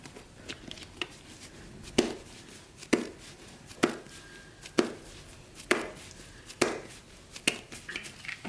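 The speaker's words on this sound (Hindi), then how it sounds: "इसके अब मैं 2 पीस कर लूँगी बिल्कुल बराबर में" Knife strikes a board while bread dough is divided into two equal pieces for homemade chicken bread, roughly eight sharp chopping taps at uneven intervals, close and fairly quiet with no talk.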